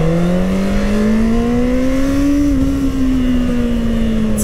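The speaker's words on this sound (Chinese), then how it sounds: "你就会瞬间被这种四缸引擎给迷住啊！" A Honda CBR650R four-cylinder motorcycle fitted with a full Akrapovič exhaust revs loudly at close range, a smooth, steady high-pitched engine note that climbs slightly and then settles, with no talking.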